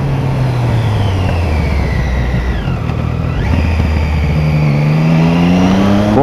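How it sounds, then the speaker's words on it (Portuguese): A motorcycle riding on a road, its engine droning steadily and loud close to the rider, pitch sliding down and back up as it eases off and accelerates again, with constant wind rush and no talking. "Que é gostoso andar de moto"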